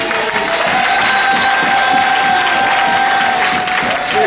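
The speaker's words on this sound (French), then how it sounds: "ce soir, j'aimerais qu'on acclame le Seigneur de nous avoir donné ce message" A church congregation at an evening service applauds and cheers to acclaim the Lord, a steady dense wash of clapping and crowd noise lasting a few seconds, with a sustained tone from instruments underneath.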